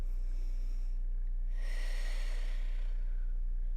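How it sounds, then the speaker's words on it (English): A person breathes deeply on a vibration platform during an upper-body recovery session, with one long, soft inhale and exhale rising over a steady low machine hum. "Inhale, exhale."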